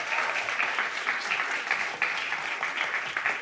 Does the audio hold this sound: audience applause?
yes